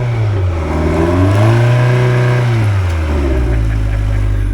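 A Parsun 115 four-stroke EFI outboard boat engine runs loud and close, its pitch rising as it revs up, holding, then dropping back to a steady idle.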